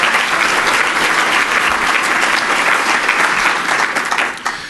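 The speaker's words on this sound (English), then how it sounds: "I think that's something to applaud." Loud, dense applause from a press club audience, sustained clapping that stays strong before easing slightly at the end.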